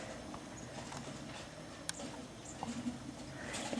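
Horse hooves clip-clop at a steady walking pace on a Morgan horse during outdoor roping practice, moving past a horse trailer and an oak tree; the footfalls are soft and moderately distant, with faint birdsong and a few small clanks in the background.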